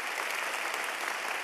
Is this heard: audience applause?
yes